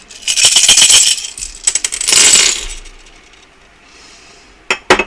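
Hard little rune stones clatter and clink as they are cast and settle, a loud rattling burst followed by scattered taps and a quiet pause.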